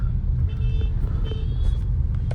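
Busy road traffic in an Indian city, dense low engine rumble from cars and trucks with scattered high beeps and horn tones, loud and close without pause.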